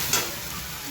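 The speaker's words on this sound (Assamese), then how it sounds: "তিতাকেৰেলা ভাজি হ'লে" Bitter gourd seasoned with salt, turmeric and a little spice fries in a pan, a dense, even sizzle heard up close, with one short scrape near the start.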